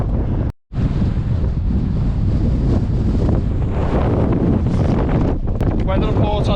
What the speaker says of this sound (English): The wind's actually picked up on this section, proper gusty.